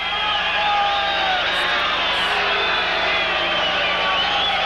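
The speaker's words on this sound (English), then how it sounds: "Well, the crowd booing here, and that is without cause." A large boxing arena crowd at a fight between Salvador Sanchez and Jorge "Rocky" Garcia, roaring and booing steadily from a distance in a dense, continuous wash of noise with no clear breaks.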